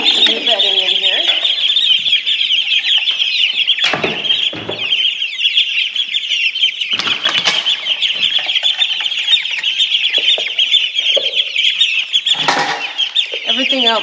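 Chickens in a coop cluck and chirp continuously during a bedding change, a dense, close chorus with a person speaking intermittently and brief rustling bursts.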